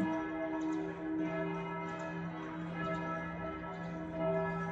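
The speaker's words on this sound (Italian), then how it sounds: "E sono scatenate oggi queste campane." Church bells ringing steadily for Easter, their sustained tones overlapping and resonating in a continuous peal, heard from some distance.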